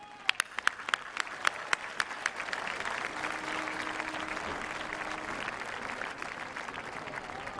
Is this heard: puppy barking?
no